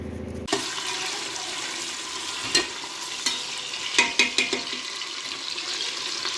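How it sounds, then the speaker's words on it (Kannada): Onion, cardamom and curry leaves fry in hot oil and ghee for a chicken gravy: a steady close sizzle with several clinks and scrapes of stirring, strongest toward the end. "ಎಣ್ಣೆ, ತುಪ್ಪ, ಈರುಳ್ಳಿ, ಏಲಕ್ಕಿ ಮತ್ತು ಕರಿಬೇವಿನ ಸೊಪ್ಪು ಎಲ್ಲ ಹಾಕ್ಕೊಂಡು ಫ್ರೈ ಮಾಡಬೇಕು ಸ್ವಲ್ಪ ಹೊತ್ತು"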